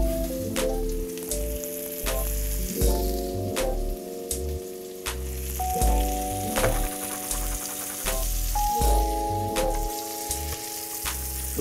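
Rainforest trout fillet frying in a pan, a steady crackling sizzle that continues alone, broken by repeated tonal clanks and bumps from the cookware.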